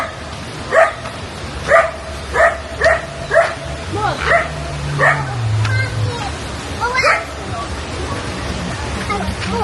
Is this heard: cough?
no